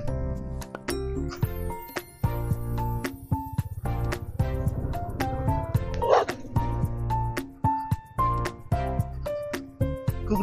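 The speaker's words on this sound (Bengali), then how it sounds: "কুকুরটা সে ঘেউ করছে এক্ষুনি" A dog barks during heavy snowfall in the high mountains of North Sikkim near Zero Point, giving a close, rapid run of yips, barks and whimpers that repeat through the whole stretch.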